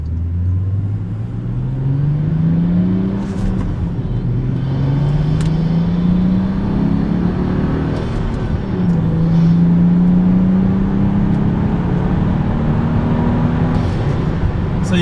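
A BMW F32 435 engine with an Active Autowerke performance exhaust growls low and deep as it accelerates through the gears on country roads, the pitch climbing and dropping with each shift, steady and close.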